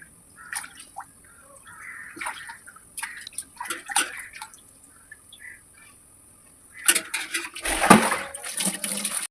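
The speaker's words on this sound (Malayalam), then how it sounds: "നമ്മൾ ചിക്കനൊക്കെ ഒന്ന് കഴുകി വൃത്തിയാക്കി" Raw chicken is washed under running water, with a tap splashing and trickling in uneven spurts. The water swells into a louder, fuller gush near the end.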